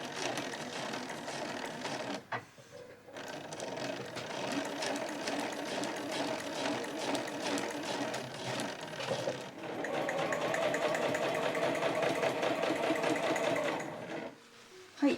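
A home sewing machine backstitches through heavy 8oz canvas for a Marimekko tote bag, its steady mechanical whirring running close and loud in long bursts with brief pauses between.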